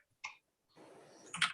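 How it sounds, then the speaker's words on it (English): An obnoxiously loud computer keyboard clatters close to the mic, with a lone keystroke, a short pause, then a quick burst of rapid typing ending in a couple of heavier clacks. "I know you can all hear my obnoxiously loud keyboard here,"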